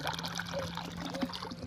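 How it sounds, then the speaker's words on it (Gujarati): A short stretch of water splashing and trickling steadily from a borewell tap, with a faint hum in the background. "આટલો સ્પીડમાં પાણી આવે તમારે"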